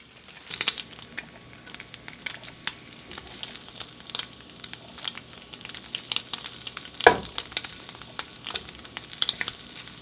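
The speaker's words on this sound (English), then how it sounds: "Cook the eggs in the bacon grease." Eggs sizzle and crackle in hot bacon grease in a pan, a steady bright frying hiss with scattered pops and one louder clatter, heard up close.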